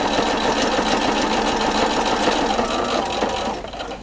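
An industrial Juki sewing machine runs steadily, stitching a quilt binding with a dense, even whir that holds close and loud before easing slightly near the end.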